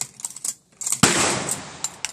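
Gunfire at an outdoor gun range with shots hitting steel targets: several sharp close reports, with a burst of rapid shots near the middle.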